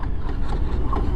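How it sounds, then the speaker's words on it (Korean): Rear wheel of a Harley-Davidson touring motorcycle chattering under ABS braking with a short tire skid, a steady rough low rumble with a few faint higher squeaks, close and loud, without voices. "지금 들리셨나 모르겠는데 ABS가 들으면서 바퀴가 턱턱턱턱 하면서 슬립이 끽끽끽 해가고 나요."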